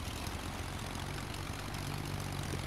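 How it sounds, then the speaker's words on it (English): A small propeller airplane idles before takeoff, its engine and propeller making a loud, steady, unbroken drone close by, with no voices. "Get the flaps ready for a little takeoff here."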